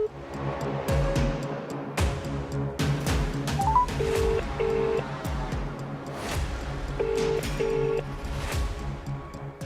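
Telephone dialing tones sound as several short, steady beeps in pairs over a busy background of clatter and low rumble, close and moderately loud.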